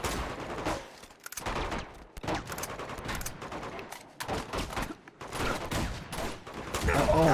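Enemy gunfire in the video game Uncharted 2, rapid bursts of shots crackling in clusters with short gaps, fairly loud throughout, mixed with game sounds and some voice.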